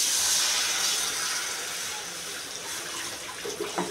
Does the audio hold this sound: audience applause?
no